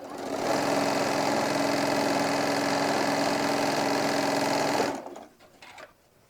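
A sewing machine runs fast and steady as it stitches folded fabric down over a centered ribbon, a close mechanical whir lasting about five seconds before it stops and a few faint handling sounds follow.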